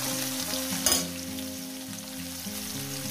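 Chopped onion hitting hot oil with cumin for a Bengali fish curry, a dense close sizzle with one brief louder burst near the start, then a steady hiss under a tonal background, no talking.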